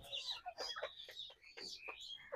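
Chickens on a poultry farm cluck in a quick series of sharp, fairly faint calls, several birds overlapping in short bursts.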